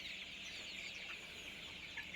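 Silver golden hen clucking continuously at close range, a steady raspy flock-like chatter filling the clip with no talk.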